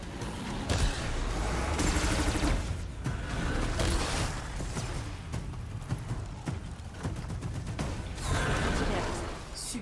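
Machine-gun fire rattles in the video game Horizon Zero Dawn Remastered: dense, loud bursts run almost continuously, with short gaps between volleys and a busy battle din underneath.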